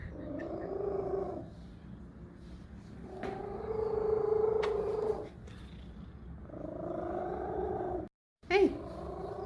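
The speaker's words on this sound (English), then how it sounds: "I'll leave the good cat noises on" Cat purring plays in long, steady rumbling stretches, swelling and easing in waves, with a brief drop to silence near the end.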